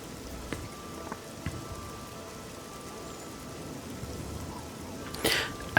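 Steady rain falling in the Oblivion video game, a soft continuous patter with a few scattered drops and a brief louder splash near the end.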